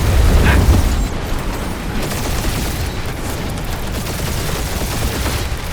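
Space battle gunfire in Marvel's Guardians of the Galaxy: a dense, continuous barrage of rapid blasts and booms from ship weapons, loud and steady throughout with a heavy low rumble.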